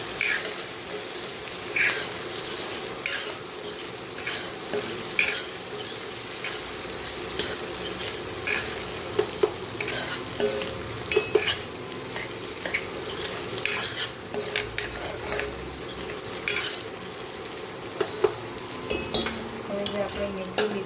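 Spices such as chilli, coriander-cumin powder and salt are stirred into fenugreek frying in a pan. It gives a steady sizzle with scraping spoon strokes and light clinks of metal against the pan, continuous and close for the whole stretch.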